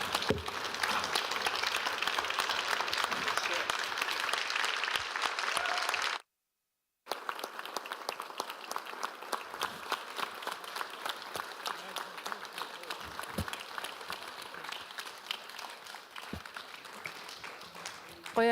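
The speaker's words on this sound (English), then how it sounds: "I hope everybody join me in giving a round of applause for this incredible panel that we have here today" An audience gives a steady round of applause for a panel at the Arctic People's Conference, with sustained dense clapping, a brief break and then more clapping.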